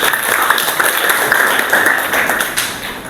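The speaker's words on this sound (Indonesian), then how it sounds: "Tepuk tangan dulu untuk kelompok 4." Students in an Indonesian classroom clap for a presenting group, a short burst of dense, bright applause lasting about three seconds at a steady level.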